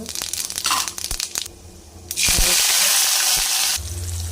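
Fennel seeds hit hot oil with a loud, crackling sizzle that swells and holds steady, after a stretch of clattering and spattering in a pan.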